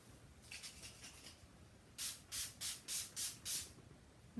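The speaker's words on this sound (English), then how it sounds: "I'm going to go in with the Urban Decay All Nighter setting spray" Urban Decay All Nighter makeup setting spray misted from its pump bottle: a few faint early spritzes, then six quick, crisp hissing bursts in an even rhythm, close and fairly soft.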